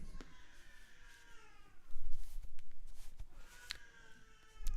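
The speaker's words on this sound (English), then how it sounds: "You can maybe hear my son screaming upstairs." A baby boy screams from upstairs, thin wavering cries that rise and fall, heard faintly and at a distance with a couple of louder bursts.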